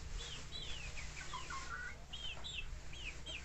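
Baby chicks on a rural farm on a sunny day give rapid, high, thin peeps in quick bursts, close by over a constant low background hum, with no one speaking.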